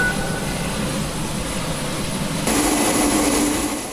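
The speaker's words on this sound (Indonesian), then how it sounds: "Pendistribusian makanan ini dikirimkan lewat udara, khususnya menggunakan pesawat C-130J Super Hercules" A C-130J Super Hercules military transport plane flies overhead on a low-altitude airdrop of flood relief supplies, a loud steady turboprop roar that swells slightly partway through, with no talk.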